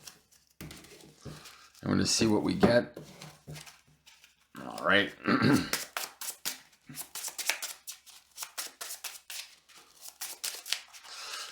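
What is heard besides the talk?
shuffling a deck of trading cards in foil sleeves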